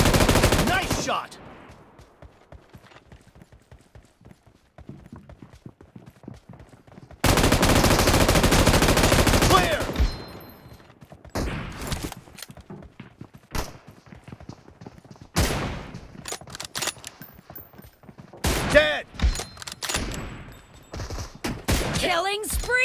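Video game gunfire in a team shooter match, scattered bursts of automatic fire and single shots with a long continuous volley in the middle, loud and close.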